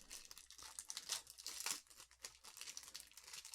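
A Yu-Gi-Oh! card pack's foil wrapper torn open, quiet close crinkling and tearing in quick uneven bursts, with no voices.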